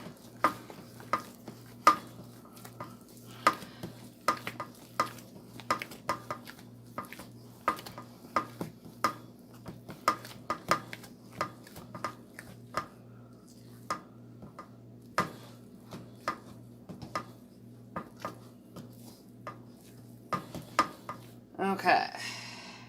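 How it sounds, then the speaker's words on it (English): A spoon stirs pumpkin chocolate chip cookie dough with added spices in a bowl, knocking in a steady run of sharp, close taps about once a second, with a brief clattering scrape near the end. "Let's mix everything"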